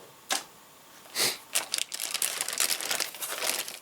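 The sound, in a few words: plastic wrapper crinkling as it is handled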